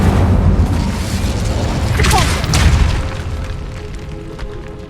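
In the Hogwarts Legacy video game, the Incendio fire spell goes off as a loud, booming whoosh of flame that swells and then fades into a rumbling tail.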